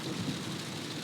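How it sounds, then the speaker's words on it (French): Heavy rain falls steadily outdoors as a dense, continuous hiss with a low rumble underneath, fairly quiet and even throughout, with no talk. "Ah, il pleut fort là."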